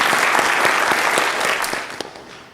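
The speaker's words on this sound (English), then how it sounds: "Let's give a big round of applause" Audience at a Bharatanatyam arangetram applauding, dense sustained clapping from a sizable crowd that tapers off near the end.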